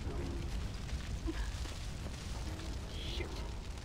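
A forest fire burns in the video game Far Cry Primal, a faint low rumbling roar with soft crackles and muffled booms throughout.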